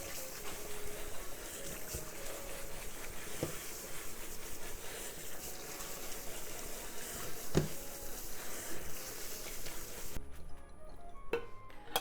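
Somen noodles rubbed vigorously in a bowl of water to wash off surface starch, giving a continuous close sloshing and swishing that stops abruptly near the end.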